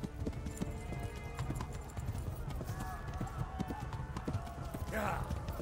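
Horses carrying riders in the medieval video game Kingdom Come: Deliverance, steady clip-clop of hooves trotting close by, with a brief whinny near the end and people talking over the hoofbeats.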